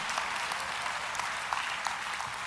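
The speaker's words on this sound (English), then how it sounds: "Come on, clap everybody." A lecture audience claps in a continuous, fairly faint wash of applause, heard from a distance with a few sharper hand claps standing out.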